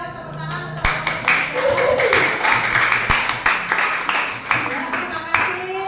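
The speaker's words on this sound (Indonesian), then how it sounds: "tepuk tangan" Scattered claps from a classroom group of students ring out under ongoing talk and murmuring, a modest round of hand claps rather than a full ovation.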